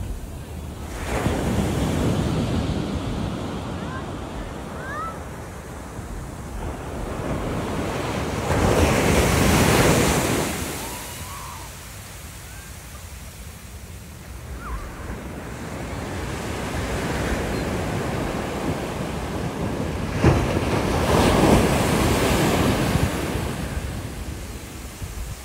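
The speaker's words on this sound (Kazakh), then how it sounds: "Мына, ең чоң толқын кетеді." Atlantic Ocean waves breaking on a Florida beach, loud rushing surges that build and crash in slow swells about every ten seconds, with heavy wind buffeting the microphone between them.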